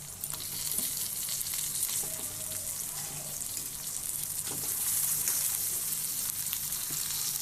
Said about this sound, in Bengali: এখন আমি কেটে রাখা সিদ্ধ করে কেটে রাখা আলু পটলগুলো দিয়ে দেবো